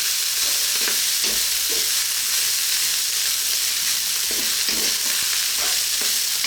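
Pork fried rice with sweet corn stirred in a frying pan, a steady loud sizzle with repeated scraping strokes of the spatula recurring every second or so throughout.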